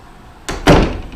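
A room door is pulled shut with one solid, close thud, preceded by a softer shuffle, during puppy training at a doorway.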